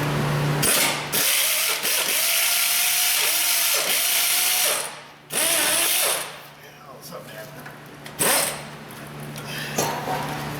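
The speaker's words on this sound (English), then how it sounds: "I don't know if we can use an air ratchet on it" An air ratchet works on broken exhaust manifold studs of a Ford F250 6.8, loud buzzing bursts in short repeated runs with pauses, mechanical clatter between them.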